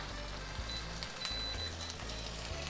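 Bacon sizzles in a pan as its fat renders for carbonara, a faint, steady crackle with scattered pops and light spatter, heard alone without talk.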